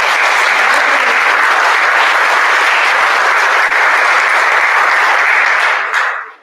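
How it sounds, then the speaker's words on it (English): Dense, continuous clapping from a crowd of students and guests at an eighth-grade awards assembly, loud and even throughout before dropping off sharply at the close. "All right, give her another round of applause."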